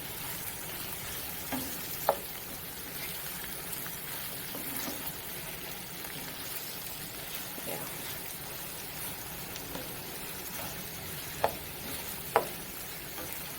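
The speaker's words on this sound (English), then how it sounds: "We saute the carrots along with the onions and sweet peppers that we already added." Julienned carrots sauteing with onions and sweet peppers in a pan give a soft, steady sizzle with a few sharp utensil taps now and then, quiet and close.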